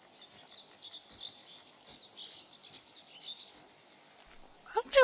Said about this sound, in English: I don't feel like I've heard that bird noise before either